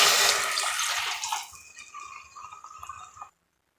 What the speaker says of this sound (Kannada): ಈಗ ಇದಕ್ಕೆ ಇದು ಮುಳುಗುವಷ್ಟು ನೀರು ಸೇರಿಸ್ತಾ ಇದ್ದೀನಿ